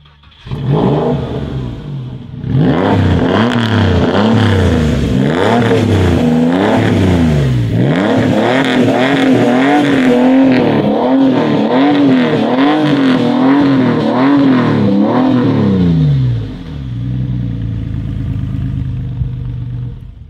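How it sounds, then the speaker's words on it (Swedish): A loud, close Porsche 911 engine with straight pipes, fitted in a VW Squareback, revs up hard, its throaty roar rising and falling through repeated throttle blips before settling back to a rumbling idle. "just nu är det raka rör på den, så alltså, den låter lite"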